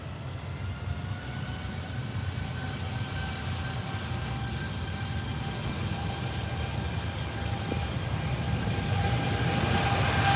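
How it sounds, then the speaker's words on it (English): A jet airliner taking off at London Heathrow, a continuous broadband engine roar with faint whining tones as the engines spool up, steady and slowly building, heard from a distance with no talking. "He's taking off. He's not using the full length, so we should get a nice noise from the spool up."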